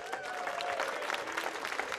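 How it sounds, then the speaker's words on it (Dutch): Steady applause from a crowd at a show finale fills the whole stretch, dense clapping without a break, with faint voices mixed in. "applaus nog een keer hier is Eddie Dijkstra."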